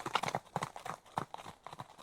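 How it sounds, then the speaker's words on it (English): Horses walk along with hooves clip-clopping in a quick, uneven patter, faint and steady throughout. "The horses take me to a house."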